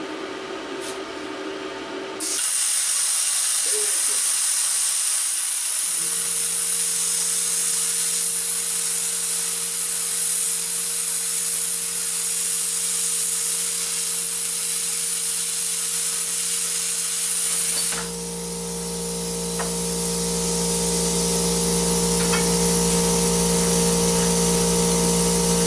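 A Lotos LTP5000D pilot-arc plasma cutter slicing through a 3/4 inch metal piece, heard as a steady loud hiss with a constant hum that runs for much of the time and shifts to a harsher roar near the end.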